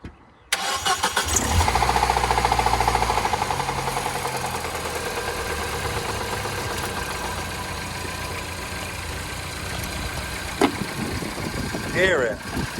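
A Peugeot RCZ 2+2 coupe engine cranks over and catches on a jump pack, roaring loudly at first and then settling into a steady, somewhat noisy idle, with a brief knock near the end.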